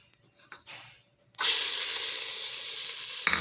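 Food drops into a hot frying pan and bursts into a loud, steady sizzle that holds for a couple of seconds. A few faint clicks and handling sounds come just before, and a brief stir or clatter is heard near the end.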